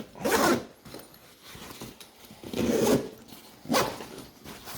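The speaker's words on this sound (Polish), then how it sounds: "Odsuwamy suwak." A Mystery Ranch 3 Day Assault Pack backpack zipper is pulled open in three rasping strokes, close to the mic, with short pauses between them and no talking.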